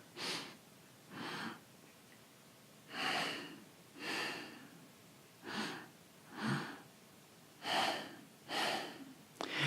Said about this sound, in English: So long, slow, deep breathing.